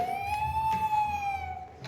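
A voice imitates an ambulance siren with a steady, wavering wail held for about two seconds, close and fairly loud with no other sound over it.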